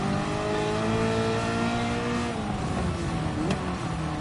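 A loud, throaty LS V8 race car engine in Gran Turismo 7 roars at steady high revs, then the pitch drops as it eases off, with a sharp crack near the end.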